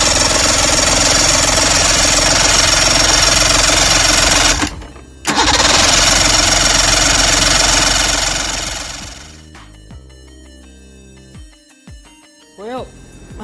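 A boat outboard motor primed and sprayed with ether is cranked, giving a loud, steady mechanical chugging for several seconds with a brief pause before it dies away into quieter clunks and handling noises.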